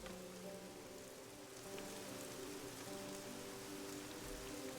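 Steady rain falls in the Marvel Midnight Suns video game, a continuous hiss of drops on surfaces with soft game music tones underneath and no talking.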